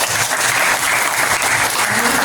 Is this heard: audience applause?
yes